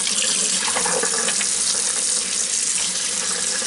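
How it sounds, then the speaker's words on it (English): A kitchen tap runs steadily as northern pike pieces are rinsed under it, a close, loud hiss of splashing water that continues without a break. "Give it a final rinse."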